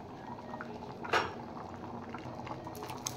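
Tadka dal boils quietly in a pot with soft, continuous bubbling, and one brief louder clink partway through.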